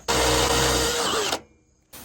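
A power drill with a 3/8 inch bit bores steadily at full speed, loud and close, for over a second before abruptly stopping; a brief second burst starts at the very end.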